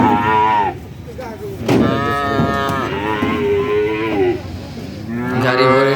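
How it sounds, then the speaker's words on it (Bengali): A cattle calf at a livestock market moos loudly and close in long, drawn-out calls, one after another, with a brief gap between them and no talk over the calls. "কিভাবে ডাকাডাকি করছে দেখুন"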